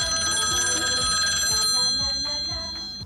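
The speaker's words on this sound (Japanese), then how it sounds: "ガチで電話、プライベート番号なんだよな" A phone rings in a GTA game for a call from a private number, a bright electronic ringtone repeating in steady pulses at full volume and fading slightly near the end.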